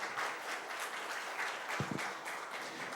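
Audience applause for a company head at a Korean corporate vision event, a dense steady wash of many hands clapping throughout, fairly distant in a hall, with a brief low thump near the end.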